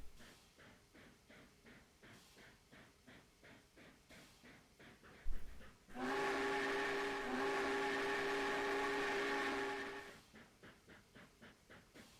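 Steam locomotive in a train video game: a rhythmic chuffing exhaust beat runs throughout, broken by one long, loud, steady whistle blast of about four seconds before the chuffing resumes.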